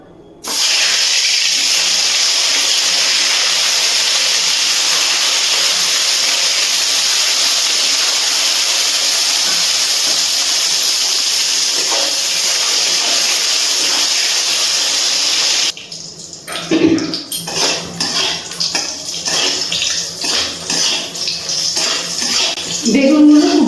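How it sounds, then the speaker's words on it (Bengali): Long strips of eggplant, rubbed with salt and turmeric, fry in hot oil with a loud, steady sizzling hiss that breaks into choppier crackling bursts toward the end. "এবার বেগুনগুলো ভেজে নিচ্ছি।"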